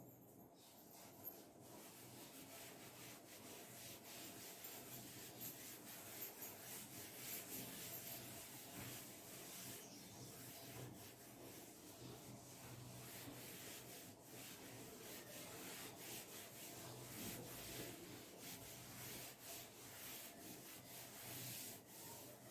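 Writing being rubbed off a board during an inverse trigonometry lesson, heard as a continuous soft scraping rub that runs steadily throughout at low level, close by, with no talking.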